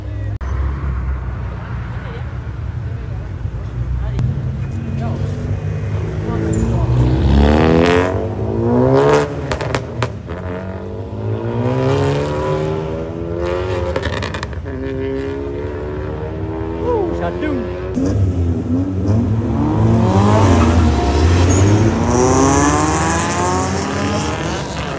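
Tuned Toyota Supra and Perodua Myvi cars rev and race, engines droning and rising in pitch through repeated gear sweeps, loud and close, with people talking over the noise throughout.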